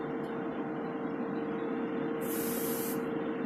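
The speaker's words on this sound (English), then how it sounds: "Right, we're at the spray booth. Give it a spray." A restorer spray-paints a Dinky Toys Hillman Minx No. 154 model green in a spray booth: a single short, bright aerosol hiss cuts in over the booth's steady droning hum.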